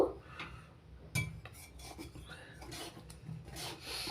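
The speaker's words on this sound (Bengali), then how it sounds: "এখন ছানাটা পাক দিয়ে নেব" Chhana mixed with sugar is stirred in a kadai, giving close, repeated scraping and rubbing strokes with faint clinks, quiet and with no voices.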